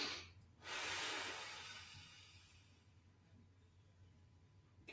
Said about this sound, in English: breath, breathing in.